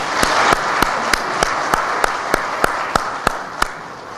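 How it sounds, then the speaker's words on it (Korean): Audience applause at a coaches' seminar, a steady wash of clapping with regular sharper claps standing out, moderately loud and continuous throughout. "자, 박수 한번 치죠."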